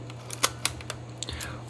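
Close, crisp clicks from turning the shutter speed dial on a Nikon F3 film camera, several separate detents at an irregular pace over a steady low hum, with no voices.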